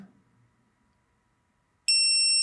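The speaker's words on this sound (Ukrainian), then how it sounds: "Інвертор продовжує пищати, і це вас буде бісити неймовірно" A DATOUBOSS TY-PSW-400 inverter sounds its low-voltage alarm after the input drops to about 10 volts, a sudden steady high-pitched electronic beep that comes in alone after a near-silent stretch and stays loud and close.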